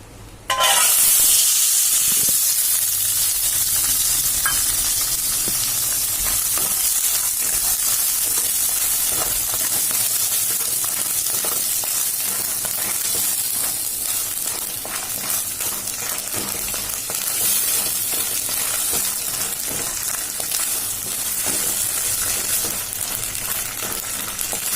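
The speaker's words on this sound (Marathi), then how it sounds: "प्रथम 2 चमचे तेलात चणे भाजून घेऊया" Chickpeas roast in a couple of spoons of hot oil in a pan, giving a continuous loud sizzle and hiss with occasional stirring scrapes, lasting for a while.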